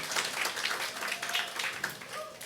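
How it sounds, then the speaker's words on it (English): An audience at a justice celebration event claps briefly and fairly quietly, in a loose patter of many hands that rises and falls without a clear rhythm. "Yes, you can applaud to that."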